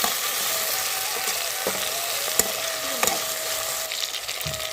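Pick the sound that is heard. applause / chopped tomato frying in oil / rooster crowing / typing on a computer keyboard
chopped tomato frying in oil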